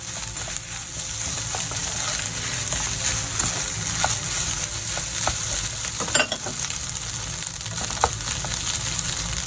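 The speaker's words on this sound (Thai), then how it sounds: "นำแครอทกับหัวหอมที่ผัดทิ้งไว้นะคะ ลงไปผัดด้วยกันเลยค่ะ" Carrots and onions stir-fried together in a pan for Japanese egg fried rice, a steady close sizzle throughout with scattered clicks and scrapes of the spatula against the pan, no talking.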